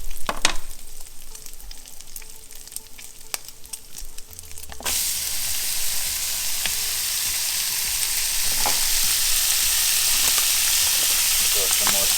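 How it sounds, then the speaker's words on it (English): Deer liver and onions frying with bacon in a pan, a steady close sizzle that swells louder partway through and continues alone. "then we're going to add in the liver and the onions."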